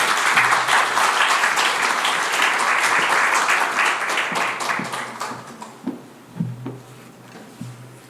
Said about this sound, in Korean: 우리 조길순 선교사님 나오실 때 박수로 환영해 주시면 감사하겠습니다